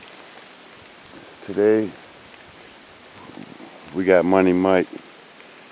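Steady rain falls outdoors on a wet, gloomy day, making a soft, even hiss in the background. Someone talks over it in two short bursts.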